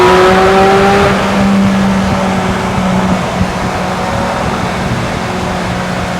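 Weissach GT4 RS driving through a tunnel with the windows down, a loud, booming engine roar reverberating off the walls, steady and close, gradually easing slightly with no talk.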